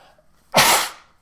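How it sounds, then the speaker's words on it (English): A single loud sneeze bursts out sharply, close to the mic, then fades quickly into quiet. "Oh, I'm going to sneeze."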